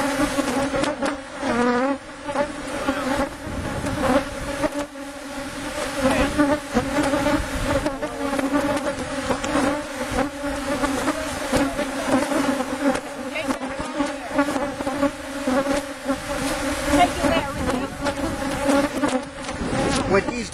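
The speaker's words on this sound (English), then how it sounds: "There are so many bees flying around I'm having trouble seeing" Swarms of honeybees fly around an open five-box hive during an inspection, producing a dense, continuous buzzing drone close to the listener that swells and dips in loudness throughout.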